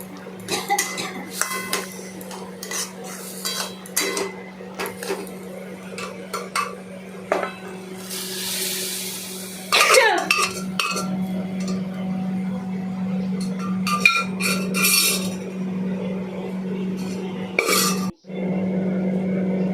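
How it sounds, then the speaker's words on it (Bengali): Ghugni being stirred in a cooking pot in a home kitchen, a spoon clinking and scraping against metal in repeated bursts over a steady low hum, with occasional clatter of utensils. "চিনি দিয়ে ভালো করে নাড়াচাড়া করলাম"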